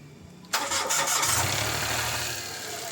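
A Mitsubishi Mirage engine cranks and catches about half a second in, then settles into a steady, loud mid-pitched idle close by.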